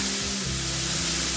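Mushrooms sizzle in a hot pan as shallots and garlic are added, giving a loud, steady frying hiss with a low hum beneath.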